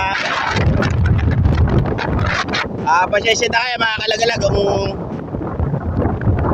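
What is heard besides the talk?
strong wind blowing at the seashore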